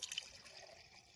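Water poured from a can into a container while filling a sprayer for a cotton field: a brief, faint splashing trickle lasting about a second.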